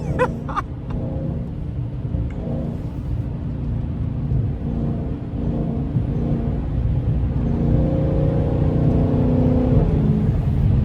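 A Dodge 392 Scat Pack fitted with a loud aftermarket intake gives a deep, steady rumble from inside the car, the drone swelling slightly louder toward the end, with a few clicks early on.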